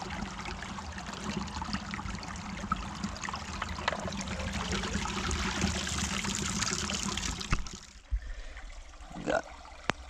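Water running steadily through a gold sluice being cleaned out at a historic Southern Oregon gold deposit, a close continuous trickling flow that cuts off near the end, leaving a few faint splashes and handling noises.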